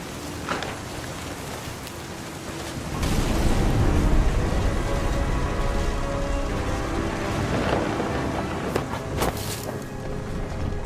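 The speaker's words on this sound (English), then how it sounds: "The thunder sounded much too close and full of angry power." Thunder in the video game What Remains of Edith Finch, set near a beach by the sea: a deep, heavy rumble rolls in after a few seconds and stays loud and sustained, with rain-like hiss underneath.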